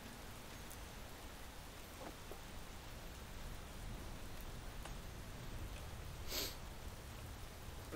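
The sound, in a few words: rain weather in the video game Space Engineers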